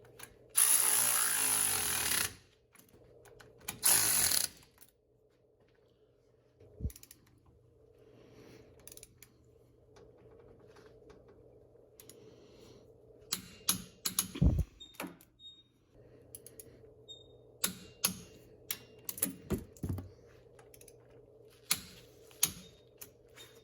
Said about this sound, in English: And I will torque all these down.